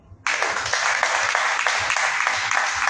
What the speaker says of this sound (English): Let's clap our hands together for him.